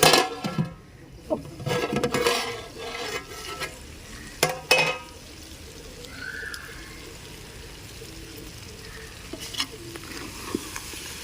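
Country chicken curry stirred in a pot, with a spoon scraping and knocking against the pot in irregular strokes early on, then a softer simmering sizzle continuing underneath.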